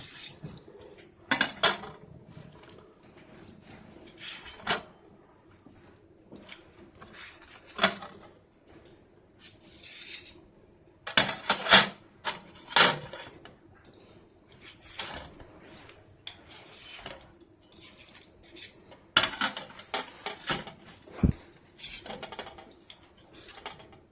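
Marinated shish kebab meat and onion being slid off metal skewers, giving irregular scraping and rasping rubs with occasional clinks against a dish, in bursts separated by quieter pauses, close and without talk.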